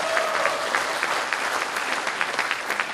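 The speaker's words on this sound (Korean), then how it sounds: "여러분 격려의 박수 부탁드리겠습니다." Sustained audience applause at a party rally for regional committee chairs, a dense continuous patter of many hands with some sharper individual claps standing out, steady and moderately loud throughout.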